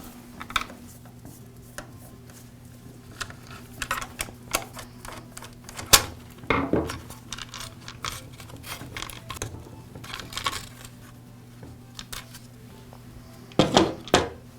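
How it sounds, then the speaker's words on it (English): Small tools tick, click and rattle while screws come out of the motor housing of an Echo string trimmer, scattered light taps with a sharper clatter near the end, over a steady low hum with no talking. "Now I'll remove the motor housing. It's held in place with 2 screws."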